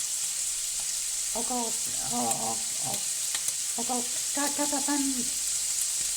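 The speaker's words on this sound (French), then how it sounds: "On rajoute les 2 oignons émassés et on laisse cuire encore" Sliced onions and chicken livers with mushrooms frying in a pan, a steady close sizzle under a person speaking briefly.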